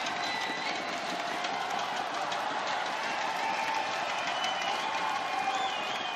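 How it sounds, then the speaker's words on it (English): A badminton crowd at the Malaysia Masters women's final claps and cheers steadily, a dense sustained wash of applause with some standing ovation energy lasting throughout. "Many of the crowd in here on their feet in appreciation"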